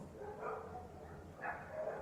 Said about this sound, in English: there are dogs fighting outside